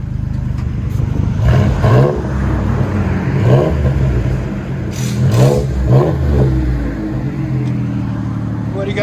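Revving of a Ford Ranger 3.0L V6 with a straight-pipe exhaust fitted with five catalytic converters: loud, close engine with several rising rev pulses over a steady idle rumble, no talk.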